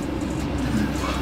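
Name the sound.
car drifting on race circuit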